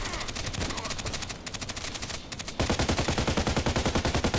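Rapid bursts of automatic gunfire ring out in the Contract Wars online shooter, dense and loud, with a brief lull before a fast, evenly spaced stream of shots fills the rest.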